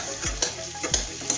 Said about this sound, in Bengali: মশলাটা কষানো হয়ে গেছে, এখন আমি দিয়ে দেব এই কুমড়ো।